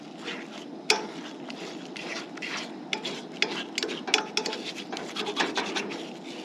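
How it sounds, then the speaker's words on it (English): A utensil scrapes scrambled eggs across the bottom of a pan in repeated rasping strokes with sharp scratches, fairly quiet and close, with no talking. "I'm really scraping at the bottom of the pan too"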